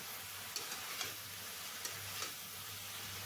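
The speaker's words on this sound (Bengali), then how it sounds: "বেগুনগুলোকে একটু লাল লাল করে ভেজে নিতে হবে" Eggplant slices fry with turmeric in a pan, giving a faint, steady sizzle with a few soft clicks and taps from stirring.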